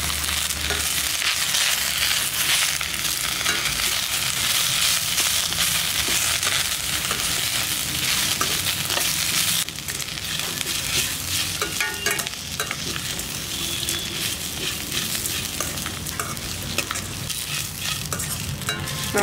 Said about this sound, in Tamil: நம்ம முருங்கைக்கீரை சேர்த்துட்டு ஒரு 2 நிமிஷம் பார்த்தீங்கன்னா வெங்காயம் கடலப்பருப்பு உளுந்தம்பருப்பு கூட நல்லா வதக்கி விட்டோம்னா